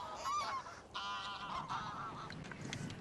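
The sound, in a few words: geese honking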